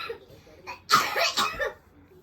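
A child coughs in a short burst of several rough, close coughs at home, one of a pair of twins, with quieter background noise before and after.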